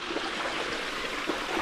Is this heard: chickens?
no